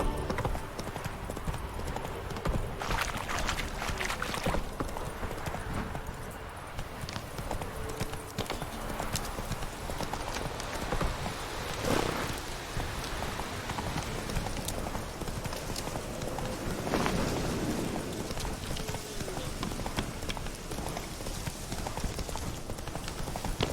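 Roach the horse trots along in The Witcher 3, with steady rhythmic hoofbeats that go on throughout under a bed of ambient noise and a brief spoken line.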